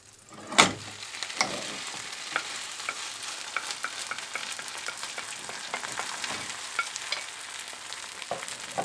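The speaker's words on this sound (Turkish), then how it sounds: "Şimdi tekrardan tavamıza yağ koyalım. Böreğimizi tavamıza yerleştirelim." Börek made with eggs and vermicelli laid into a pan of hot oil, opening with a sharp clatter as it goes in, then a constant close sizzle with small pops and crackles continuing alone.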